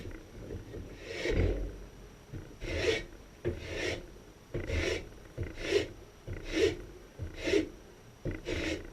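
Wood is scraped down on a handmade bow in about eight rhythmic rasping strokes, each a close, dry pull separated by short pauses.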